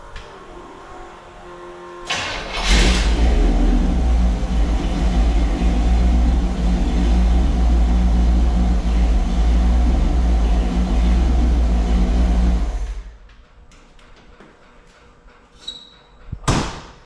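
A Mini Kenworth engine runs with no belts fitted, a loud, deep, steady rumble that starts abruptly after a quiet moment and cuts off after about ten seconds, followed by near quiet and a brief knock.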